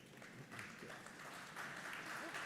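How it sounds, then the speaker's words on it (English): Conference audience at an automotive technology showcase claps after a vehicle safety talk, a faint, distant patter of applause continuing steadily throughout. "You're getting applause."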